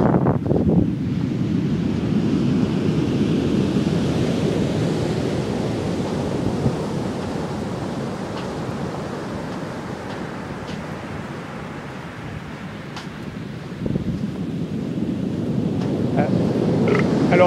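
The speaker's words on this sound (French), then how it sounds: "Alors la houle nettoie la plage." Sea swell washing onto a beach near a harbour's south jetty, a continuous broad surf wash with heavy wind buffeting the microphone, fairly distant and steady.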